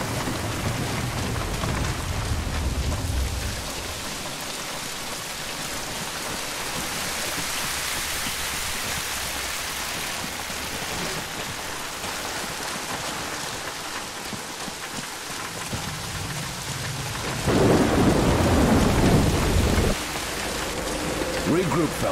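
Pouring rain in a stormy scene from the video game The Bureau: XCOM Declassified, a steady dense hiss that swells louder near the end, with a deep low rumble early on that could be thunder, and no voices.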